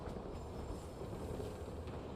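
Train moving in the video game Warzone, a steady loud rumble of rolling railcars with faint wheel clatter, continuous and close throughout.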